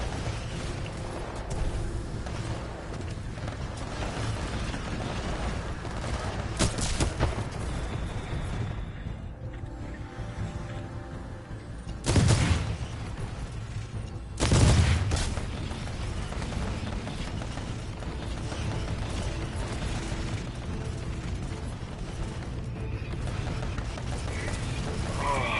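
Titanfall 2 gameplay with mechanical clanks and whirring from deploying sentry turrets over a steady low ambient rumble, broken by two heavy impact bursts near the middle, with no talking.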